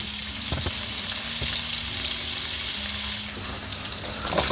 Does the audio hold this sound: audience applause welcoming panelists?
no